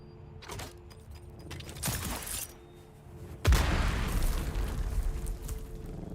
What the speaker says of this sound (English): Wait for the explosion, boys. Wait for the explosion.